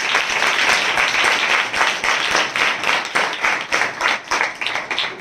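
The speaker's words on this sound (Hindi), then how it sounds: "हम जोरदार तालियों से उनका स्वागत करें।" A large assembly audience gives loud, sustained applause, dense clapping that fills the room continuously before gradually thinning and becoming more rhythmic near the end.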